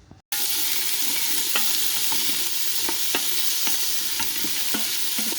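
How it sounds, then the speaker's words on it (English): Carrots, celery and onions sauté in an Instant Pot on its sauté function, giving a constant close sizzle punctuated by sharp spoon taps and stirring clicks at irregular intervals. "put them in here, saute them in the Instant Pot on saute function for 5 minutes"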